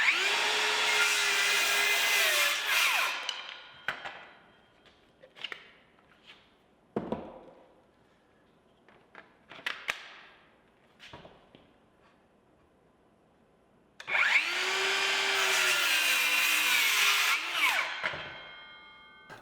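DeWalt 20V XR brushless 7-1/4-inch cordless circular saw making a 45-degree bevel cut through a 2x8: a loud high whine spins up and cuts, then clicks and clunks while quiet, then a second long loud cut.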